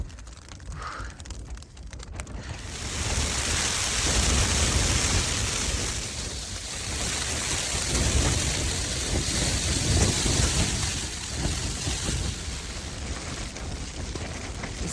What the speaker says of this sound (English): another thunderstorm is blowing through. I can hear the thunder in the background.